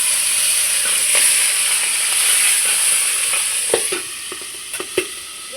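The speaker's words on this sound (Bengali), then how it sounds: "দেখুন ঢাকা দিয়ে দিয়েছি, এখন ঠাস ঠাস করে ফুটবে" Magur catfish frying in a covered pan, a steady bright sizzling hiss with several sharp spits and pops breaking through toward the end, close and loud.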